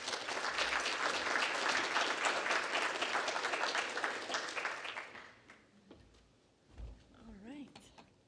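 Audience applause for a speaker coming on stage at a genome engineering lecture, a dense roar of clapping for about five seconds that then thins and dies away, leaving quiet room noise and a faint voice.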